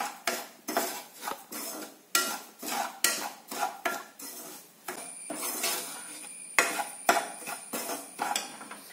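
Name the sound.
stirring semolina roasting in ghee in a pan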